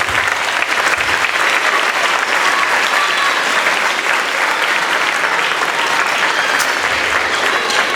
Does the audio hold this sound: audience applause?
yes